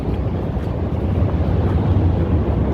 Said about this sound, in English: there's the train behind me. You can hear it.